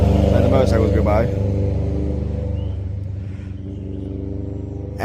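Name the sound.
motorcycles passing by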